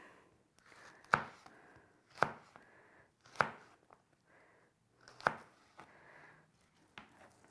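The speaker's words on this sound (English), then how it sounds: "Julienning our jalapeno." A knife cuts a jalapeño into thin julienne strips on a cutting board, giving six crisp chops at an irregular, unhurried pace, each a sharp tap followed by a softer slide of the blade.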